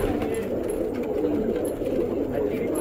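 Pigeons coo softly and continuously inside a large net enclosure holding desi chitty jungle pigeons, a low steady murmur with no clear gaps.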